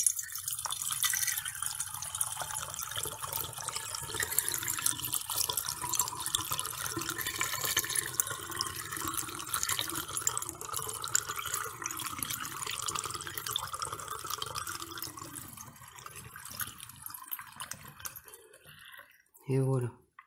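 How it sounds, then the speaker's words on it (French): Homemade apple cider vinegar poured into a bottle, a soft continuous trickle and gurgle of liquid under a person speaking, fading out near the end with a brief knock. "Donc on verse."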